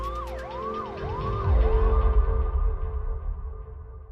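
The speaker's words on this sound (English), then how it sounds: "All she could do was watch as the ambulance sped away with her son." An ambulance siren wails in rising and falling sweeps while a rumbling engine swells beneath it, as the vehicle speeds off from a scene in India.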